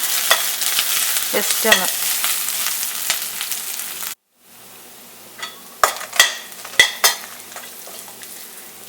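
Cabbage being stir-fried in a pan over a low flame, with a steady sizzle and scraping stirs, a brief gap, then a few sharp clanks of a spoon against the pan, with a short spoken phrase.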